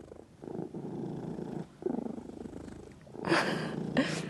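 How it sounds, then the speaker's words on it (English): A pet cat named Cleo purrs close up in steady rumbling bursts, pausing briefly for breath between them, with a little rustling near the end. "Listen to Cleo purr."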